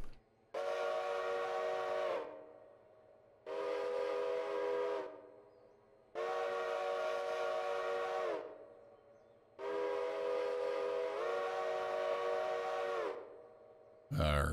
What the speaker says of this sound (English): We got a Nathan five chime.